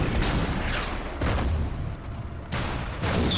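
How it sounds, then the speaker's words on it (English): Artillery fire booms in an Order of Battle wartime strategy game, set against British heavy infantry in North Africa, with several heavy blasts spaced about a second apart, each rolling into a rumbling decay. "We can now see the British heavy infantry, which we will start to fire on with the artillery."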